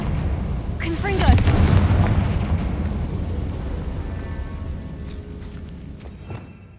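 A Confringo fire spell from Hogwarts Legacy bursts loudly, a crackling explosion that swells and rumbles before slowly fading, with game ambience lingering beneath.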